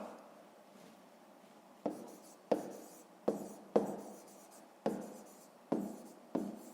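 Pen writing on paper while working through a 5th-grade maths exercise, heard as seven or eight crisp, close strokes in a steady rhythm, each starting sharply and then scratching away, with no talking.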